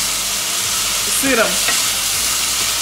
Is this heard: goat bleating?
no